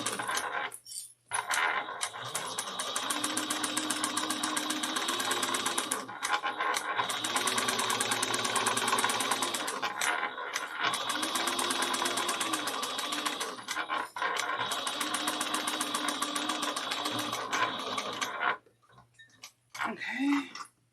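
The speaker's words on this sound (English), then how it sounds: "I'm sewing up this side to face the two seams together, the exterior and the interior underneath." A sewing machine runs steadily and close, stitching the seams of a foam-padded piece of fabric with a rapid mechanical whir in long runs that pause briefly. The stitching stops near the end of the clip.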